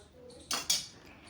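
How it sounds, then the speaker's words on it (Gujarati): Knife slicing through a crisp fried aloo bread kachori, two short crunchy, clattering cuts close up against a plate, in a quiet kitchen without talk. "અને આ કચોરીને હું તમને કટ કરીને પણ બતાડું કે કેવી સરસ બની છે."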